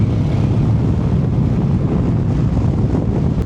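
Strong wind buffets the microphone in a constant low roar, rushing past a rider on a Honda X-ADV 750 maxi scooter with the windscreen at its lowest setting, with no voices.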